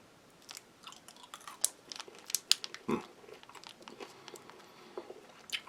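Chewing on Norwegian field-ration peppermint gum with a crispy shell, close and crunchy: irregular crackling bites and squelches over about six seconds, with one louder crunch midway and no talk.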